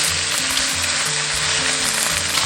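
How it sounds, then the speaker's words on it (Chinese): Scallion pieces and ginger slices fry in an iron wok, a steady, close sizzle that runs unbroken throughout with no voices. "加入葱段、姜片，"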